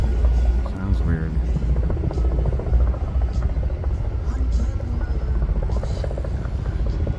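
A twin-rotor helicopter flies overhead beside a river walk through a bamboo forest in a national garden, its loud, steady rotor thrum filling the whole stretch with quick beating pulses while people talk over it.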